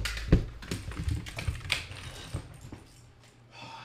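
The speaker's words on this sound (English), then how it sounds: "I'm about to break this fucking keyboard, bro." Rapid, uneven clatter of keys on a computer keyboard during an NBA 2K18 gaming session, with sharp louder strikes early and softer tapping trailing off, close and alone.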